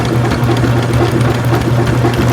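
An Albott electric drain snake, 75 ft by 3/8 inch with auto feed, runs its motor to wind the cable back in, a steady close mechanical hum with a faint rhythmic rattle.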